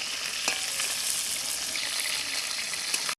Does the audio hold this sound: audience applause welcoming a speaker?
no